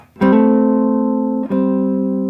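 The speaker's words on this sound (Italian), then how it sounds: "ascolta questi double stop sulle corde centrali" Two sustained electric guitar double stops on the middle strings, the first ringing over a second before a brief break and a second pair of notes rings on.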